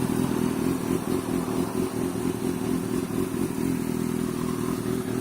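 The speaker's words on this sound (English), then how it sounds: "I'll go ahead and rev it." The engine of a 2005 Kawasaki ZX6R 636 motorcycle, warmed up, runs loud and close with a steady throbbing drone and mechanical clatter throughout, with no clear rises in revs.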